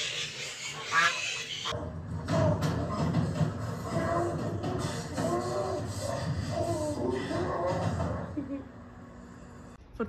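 Ducks quacking and honking close by in a yard, a busy run of repeated calls over rustling and shuffling, with people talking softly in the background.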